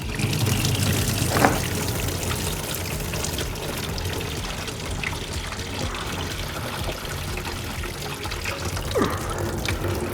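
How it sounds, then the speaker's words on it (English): Engine coolant drains from a pulled hose into a bucket under the motor cover of a BMW F80 M3/F82 M4/F87 M2, a steady pouring trickle of liquid running continuously and fairly close throughout. "we're gonna pull this hose off and we're gonna get as much of that coolant in the bucket as possible"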